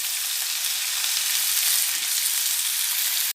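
Onion, garlic and ginger fry hard in hot oil in a pan, giving a loud, steady, continuous sizzle with no talking.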